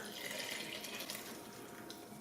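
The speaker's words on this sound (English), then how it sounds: "now we're basically going to pour our liquid right into here" A yeast and milk mixture is poured into a bowl for baking, a close, steady liquid pour lasting a couple of seconds without any talk.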